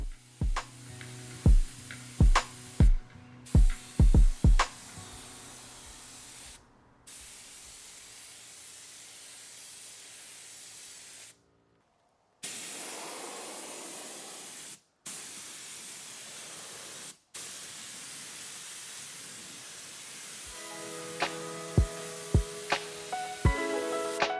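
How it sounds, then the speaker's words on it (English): A paint spray gun hisses in long continuous bursts while painting vintage tables, stopping and restarting several times as the nozzle is adjusted, with clicks and mechanical tones between sprays. "I am adjusting the nozzle and spraying out the paint"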